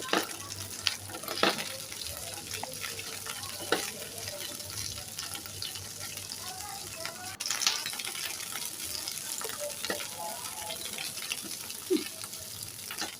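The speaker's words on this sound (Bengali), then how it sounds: "সামান্য কিছু লবণ দিয়ে আমি এভাবে ভেজে নেব কিছুক্ষণ" Okra frying with a pinch of salt in a pan gives a soft, steady sizzle. Occasional stirring scrapes and light clinks from the spatula break it up, and there is no speech.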